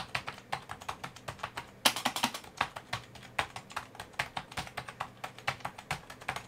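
Rapid keystrokes on a vintage Canadian-made Unicomp IBM keyboard: close, crisp clacks in a fast, uneven rhythm, with one louder burst of keys partway through and nothing else around.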